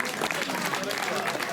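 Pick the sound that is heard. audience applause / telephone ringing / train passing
audience applause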